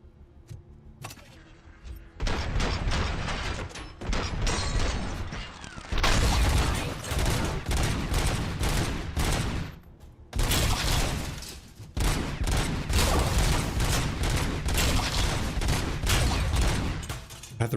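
Sustained gunfire from the Robocop: Rogue City video game, with rapid bursts of shots and heavy impacts running almost continuously and loud, broken by brief lulls between volleys.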